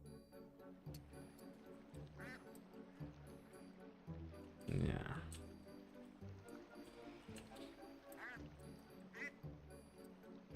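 Ducks quacking in the farming game Teddy's Haven, a series of short quacks spread across soft looping game music, with one louder burst midway and a brief spoken word.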